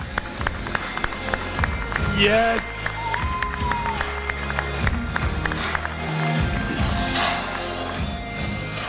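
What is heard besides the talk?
audience applause and noise at E3 2018 presentation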